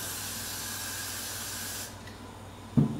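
Got2b Ultra Glued hair spray hisses from an aerosol can in one steady close burst lasting nearly two seconds, then cuts off to quiet, followed by a brief soft knock.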